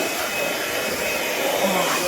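A blower mounted on a tractor runs at a steady, loud roar, an even airy drone with no breaks throughout, close by and alone.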